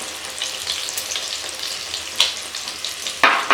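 Beef shami kababs fry in a kadai, a steady close hiss of hot oil with a couple of sharper crackling bursts toward the end, without any talking.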